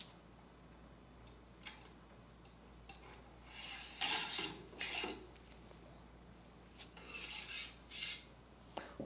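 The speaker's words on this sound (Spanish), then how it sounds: "perforamos y colocamos el respectivo tornillo" A surgical drill bores through bone to seat a locking screw in a femoral nail, giving short bursts of whirring and scraping between quiet gaps, close and moderately loud.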